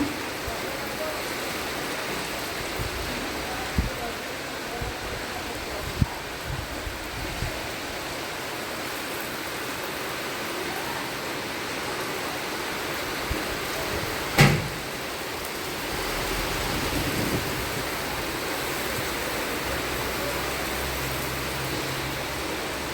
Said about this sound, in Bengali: এই দেখো বৃষ্টিটা পুরো একদিক থেকে আসছে আর সঙ্গে কিন্তু হাওয়াও ছেড়েছে